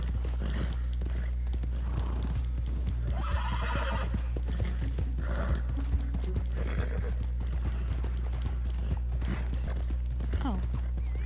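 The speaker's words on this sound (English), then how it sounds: "I did not tell your horse to jump." Horse hooves pounding and a whinny in Red Dead Redemption 2 as the horse leaps during a ride, with steady clip-clop and game ambience throughout and a voice talking over it.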